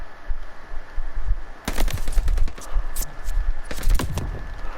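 Machine gun fire in the video game Vanguard rips out in rapid bursts after a quiet opening, loud and close, with short gaps between volleys and another heavy burst near the end.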